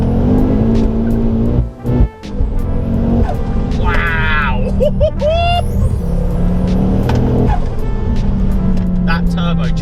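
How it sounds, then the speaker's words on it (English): A 480 BHP MK2 Ford Focus RS accelerating hard with its turbocharger spooling, a loud, steady engine drone that rises and falls through the gears while someone talks over it. "That turbocharger, when it comes on, wow"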